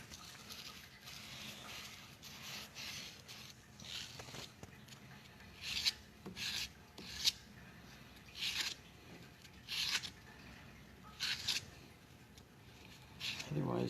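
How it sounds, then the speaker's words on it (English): A machined shift knob's inner edge is deburred by hand, giving short, quiet rasping scrapes in an irregular series, with soft talk in the background. "You only want to deburr the very inner edge."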